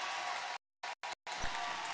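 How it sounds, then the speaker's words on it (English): A basketball crowd in Garth Pleasant Arena cheers and applauds in a broad, loud wash of noise, broken by brief dropouts before the roar resumes. "You can hear the crowd into it"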